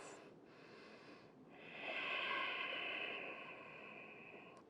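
Slow, airy breathing during a held downward dog yoga pose, a soft nasal inhale swelling into a longer hissing exhale, faint and close in a quiet room.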